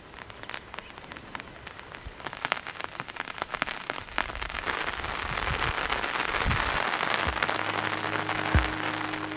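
Rain falls near Pokhari Dhura village in Darjeeling's tea country, scattered patters at first building into a dense, steady downpour hiss, with a few low thumps toward the end.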